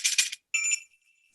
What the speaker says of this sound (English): I can hardly hear myself think for the jingling of their bells.